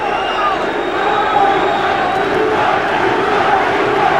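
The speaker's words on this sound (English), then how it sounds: "The crowd getting behind the champion." A boxing arena crowd roars and cheers steadily behind the champion during a tense late round of a WBO super middleweight title fight, a dense continuous wall of voices with occasional louder shouts.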